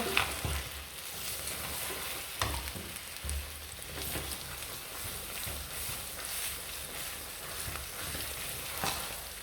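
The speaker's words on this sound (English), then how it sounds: "I'm going to start mixing this egusi" Egusi soup is stirred in a pot, with soft scraping and shuffling strokes repeating over a low bubbling sizzle, fairly quiet and close, with no talking.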